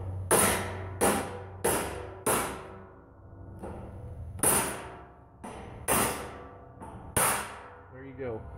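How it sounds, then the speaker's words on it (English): Sharp metallic clangs of a hammer striking another hammer ring out about eight times at uneven intervals, each leaving a brief ringing decay. "Or you can have a buddy hold one hammer and you hit the other"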